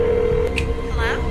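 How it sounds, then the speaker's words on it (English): Telephone keypad dialing tones as a phone call is placed, a few short beeps heard over a steady hum and low background noise. "He makes her make that phone call to Sue Bostic"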